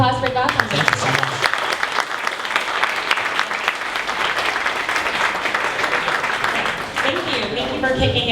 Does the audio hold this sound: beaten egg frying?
no